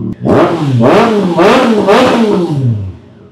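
A 2025 Triumph Trident 660 motorcycle fitted with a carbon aftermarket exhaust revs loudly and close up in three or four rising and falling blips, its engine note swelling and dropping before settling to idle.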